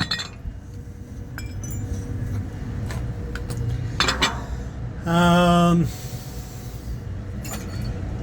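Three broken metal fan blade pieces from a wrecked SF-1H fan handled together, giving a short bright clinking rattle close up over steady background hum and noise.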